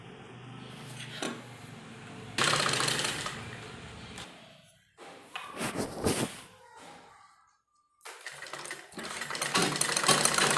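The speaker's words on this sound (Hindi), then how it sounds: "फिटिंग की सिलाई के साथ इसको मिलाते हुए सिलाई लगाएंगे" A sewing machine stitches kurta sleeves in several runs of rapid whirring and clattering, separated by brief pauses and one near-silent gap, close and fairly loud, with no voices.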